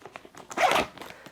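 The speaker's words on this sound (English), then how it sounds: "So one of the more obvious features of this bag is there's a front zipper." A matte black YKK AquaGuard No. 5 waterproof zipper on the front of a backpack is pulled open in one quick, close, rasping zip.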